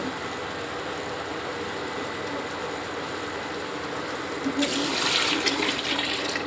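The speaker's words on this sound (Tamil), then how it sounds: "இப்போ தண்ணி ஊற்றிக்கலாங்க அதுலேயே" Mutton cooking stock is poured into a biryani pot, a steady liquid rush under kitchen background noise that grows louder and splashier toward the end.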